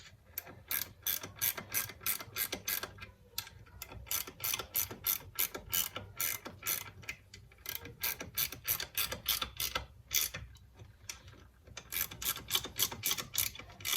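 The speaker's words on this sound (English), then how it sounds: "13mm spanner. And I'm going to put that over there and just pull these down nice and evenly" A 13mm spanner tightens gearbox bolts evenly, producing rapid runs of sharp ratcheting clicks in bursts with short pauses between strokes, close and fairly quiet with no talking.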